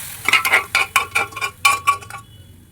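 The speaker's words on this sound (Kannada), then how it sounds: "ಚೆನ್ನಾಗಿ ತಿರುಗೋದ್ರಿ" A spoon stirs green gram (hesaru kalu) in a metal cooking pot for North Karnataka gatti saaru, giving about eight close, rhythmic clinks and scrapes against the pot, with no talking.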